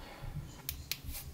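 Clicks of the Xtar WK42 Sirius CR LED flashlight switch, two or three short crisp snaps close by in quick succession over a faint background hum.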